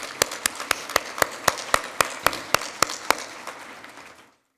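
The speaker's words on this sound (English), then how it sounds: "I think they deserve another round of applause" An audience at a small business week event in Denver applauds, a steady wash of clapping with sharp, evenly spaced claps standing out, before it stops abruptly.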